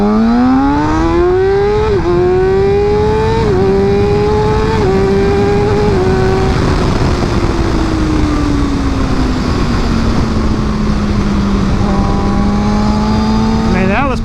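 A 600cc super sport motorcycle accelerates hard, its engine whine climbing in pitch through several quick gear shifts before settling into a steady high cruise, loud and close against rushing wind noise.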